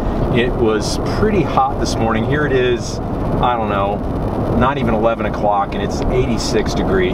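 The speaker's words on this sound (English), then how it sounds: "So pardon the road noise." Road noise inside a moving air-conditioned truck, a steady low rumble and hiss running under continuous close talking.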